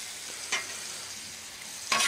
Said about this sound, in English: Just going to deglaze that, the blackstone, and then we're going to mix well